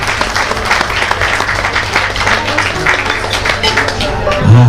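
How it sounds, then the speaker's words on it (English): Audience applause at a music show, a dense steady roar of many hands clapping close up, sustained throughout with a few faint voices mixed in. "We give you a big round of applause."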